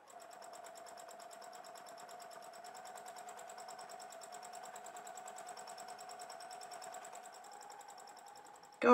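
A sewing machine stitches an appliqué outline for thread sketching, running in a steady, even mechanical whir at close range, faint and alone, with a brief louder bump at the very end.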